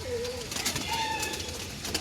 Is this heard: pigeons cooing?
yes